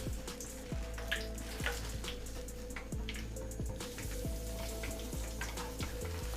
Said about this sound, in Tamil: இப்போ இதை அப்படியே எடுத்து ஆயிலில் சேர்த்துடலாம்.